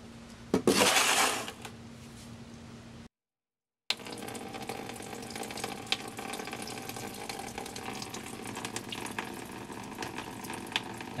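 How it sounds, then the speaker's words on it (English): Liquid splashes and trickles steadily as antifreeze drains from a Chevelle radiator, beginning with a louder gush, then a short silent gap, then a continuous stream. "You only need to drain as much out of the radiator to get below the manifold level."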